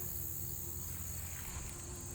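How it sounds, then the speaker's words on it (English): Bees buzz among cucumber plants in a home garden, a constant, even insect drone holding steady at moderate volume with no talking. "I hear lots of bees."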